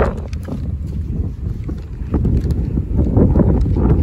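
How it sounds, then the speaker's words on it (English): Wind gusts buffet the microphone outdoors in a neighborhood by a field, a loud low rumbling roar that rises and falls irregularly, with no speech. "Hopefully it's not too windy for you guys."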